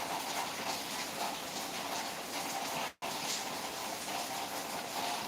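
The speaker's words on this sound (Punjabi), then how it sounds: "ਅੱਜ ਸਵੇਰ ਤੋਂ ਹੀ ਜਿਹੜੀ ਬਾਰਿਸ਼ ਪੈ ਰਹੀ ਹੈਗੀ ਹੈ" Steady rain falls in Faridkot, Punjab, a dense continuous patter on surfaces throughout, broken only by a momentary cut near the middle.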